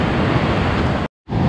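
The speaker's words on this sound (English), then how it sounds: "Listen to the force of that water. Even this high up in the mountain, it's roaring down." A mountain stream high in the Georgian Caucasus roars down with forceful, dense rushing water noise, loud and constant, cut by a brief dropout before resuming.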